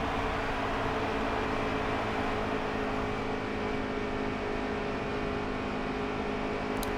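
Continuous droning car engine from the NASCAR Heat 3 racing game, a steady loud broadband roar that holds constant without breaks.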